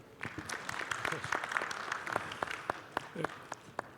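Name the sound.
applause for a speaker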